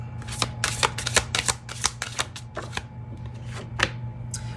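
A deck of Stay Inspired oracle cards by Sister Moon Tarot is shuffled close up, with quick bursts of crisp riffling flutters repeated in an irregular rhythm over a low steady hum.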